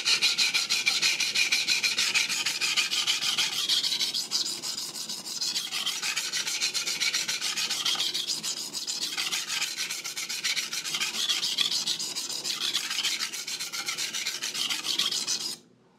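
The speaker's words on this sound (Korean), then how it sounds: "연마 소리도 굉장히 거칠지만" Coarse, continuous rasping of a knife blade stroked across a 150-grit diamond whetstone, steady and close for the whole stretch, stopping abruptly at the end.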